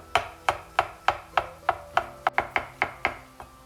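Mushrooms being chopped for green bean casserole, a knife striking the cutting board about a dozen times in a steady, even rhythm, close and crisp with no talking.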